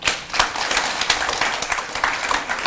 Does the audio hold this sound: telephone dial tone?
no